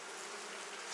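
Honeybees swarm over a brood frame lifted from a hive, their dense, steady buzzing loud and close with no pause.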